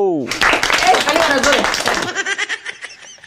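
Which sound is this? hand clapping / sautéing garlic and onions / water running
hand clapping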